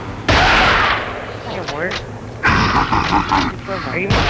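Loud booming blasts and gunfire from the Gears of War video game, with heavy explosive bursts separated by brief lulls, under talk.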